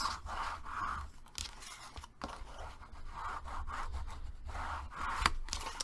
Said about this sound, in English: I'm going to still take my burnishing tool and crease the edges.